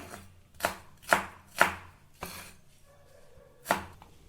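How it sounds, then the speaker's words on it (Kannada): Onion being chopped into small pieces on a board, five sharp knife strikes in an uneven rhythm, close and distinct with quiet gaps between them. "ಈರುಳ್ಳಿನೂ ಕೂಡ ಹಾಗೆ ಕಟ್ ಮಾಡ್ಕೊಳ್ಳಿ"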